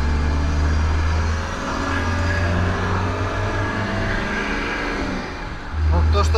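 A Mercedes W123 with the OM 615 turbo diesel pulls through its gears, a steady low drone that dips briefly between shifts and swells again near the end, running beneath someone talking.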